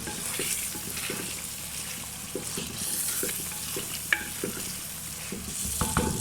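Chicken and peas frying in desi ghee for masala matar chicken, a steady loud sizzle with rhythmic stirring scrapes of a spoon against the pan and a few sharper clinks.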